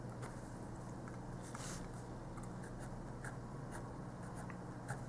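A pen scratches across paper while math is written by hand, a steady close scribbling texture with short strokes and taps over a low background hum, no voices.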